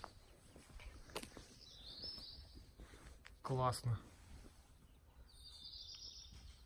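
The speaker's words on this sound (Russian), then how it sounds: "Птички чирикают офигенно." Faint birds chirp and tweet in short bursts outdoors, with a brief spoken word in the middle and light background noise.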